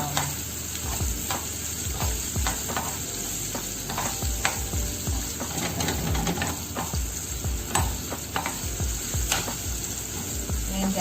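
Onions sautéing for pork adobo tuyo, a steady loud sizzle with frequent stirring scrapes and spatula knocks against the pan, continuous throughout with no talk.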